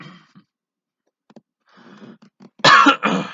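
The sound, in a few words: coughing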